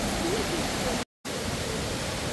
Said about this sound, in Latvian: Ūdenskritumu cienītāju paradīze